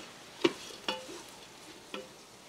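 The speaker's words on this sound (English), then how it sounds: "We're just going to give these potatoes a stir." Potatoes are stirred in a Ninja Foodi, three distinct scraping clinks of a utensil against the pot over a quiet background sizzle.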